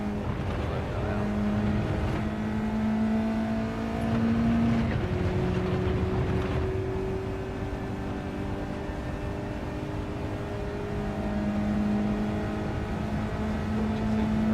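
A racing car engine hums and shifts pitch steadily, with a smooth, continuous revving tone rising and falling over time.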